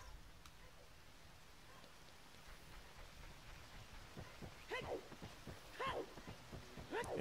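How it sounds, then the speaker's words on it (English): Rain falls in The Legend of Zelda: Ocarina of Time as a soft, steady hiss, joined toward the end by a few brief, louder tonal chirps and blips. "Oh, it's raining."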